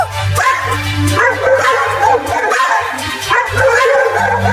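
Two cartoon dogs bark and yip repeatedly at close range, their sharp overlapping woofs coming in uneven bursts throughout.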